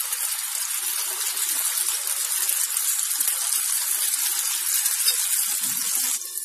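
An egg and potato breakfast mixture cooks in a hot pan with a steady, dense sizzle that holds close and even throughout, with no voices.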